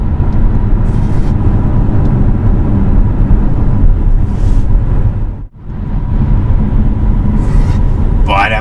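A BMW X1 xDrive 25e plug-in hybrid accelerates hard with a steady, loud engine and road rumble from inside the cabin. The noise briefly drops out partway through before resuming.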